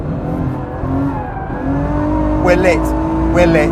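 A Ferrari F12berlinetta's engine pulls hard in fourth gear, a loud, continuous roar rising steadily from inside the cabin, while a voice shouts over it briefly.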